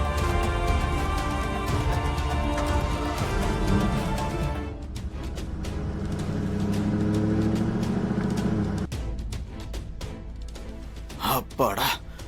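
A car engine drones and then pulls away, with a low rumble fading out partway through, mixed with background music and a few faint breathy sounds.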